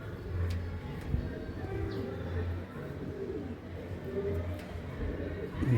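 A male Chiniya Malbahi pigeon coos in low, repeated throaty hums, several soft phrases close by over a faint room and street background.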